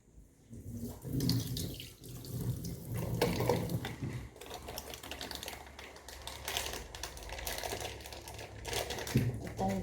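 Tap water running into a sink during face washing at home, steady splashing and trickling with clattering handling sounds throughout, close and fairly loud, no talking.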